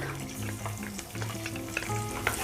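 Garlic fries in a pan with a moderate, steady sizzle. Brief stirring clinks and scrapes break through it at intervals, and there is no talking.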